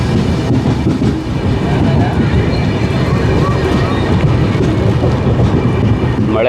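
Passenger train bound for Prayagraj running on the rails near Sirpur in rainy weather, a loud, dense rumble with steady wheel noise heard from on board, continuous and close throughout.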